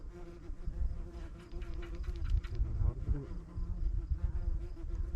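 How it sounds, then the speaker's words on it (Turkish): Several bees buzz close by while fishing for zander with a jig, their droning rising and falling continuously, with a faint voice and some low background noise underneath. "Şu an arılar da rahat bırakmıyor."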